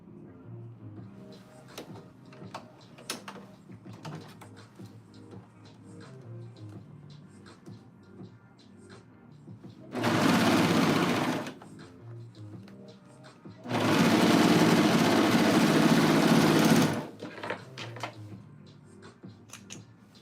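Sewing machine stitching a seam on lounge pants, two loud bursts of rapid whirring, the second longer, set between quieter handling clicks and rustles.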